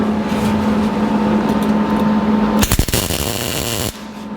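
A MIG welder arcs on the cab floor of a 1949 Chevrolet gasser once the shielding gas is on, giving a loud, crackling sizzle for about a second after a steady machine hum, then the hum resumes.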